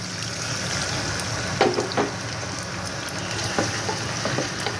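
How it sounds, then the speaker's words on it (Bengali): Masala rinse water poured into a pan of frying chicken sets off a loud, steady sizzle, with a few sharper spits and bursts partway through. "ওই চিকেনেরই যে মশলাটা ছিল ওটাকে ধুয়ে আমি জলটা দিয়ে দিচ্ছি"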